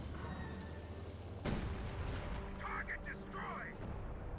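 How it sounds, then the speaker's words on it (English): Artillery shells from a creeping barrage in the video game Company of Heroes 2: one sharp, heavy impact, then rumbling battle noise with distant explosions, while a voice talks over it. "Is that creeping barrage? It is a creeping barrage."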